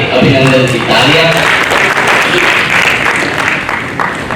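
Audience at a Hindi comic poetry event breaking into loud, sustained applause, dense clapping close and continuous throughout, tapering slightly at the end.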